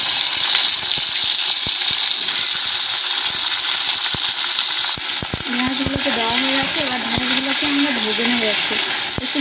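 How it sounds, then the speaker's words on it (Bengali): Fish roe sizzles and spatters steadily in hot oil in a home kitchen pan, a loud continuous frying hiss with scattered pops, joined midway by a faint wavering tone. "ওই ডিম ভাজার তেলেতে আমরা ডিমগুলোকে ভেজে নেব"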